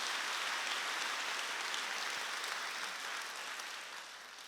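A church congregation at a Wednesday worship service bursts into sustained applause, a dense even hiss of many hands that holds steady and then begins to taper off.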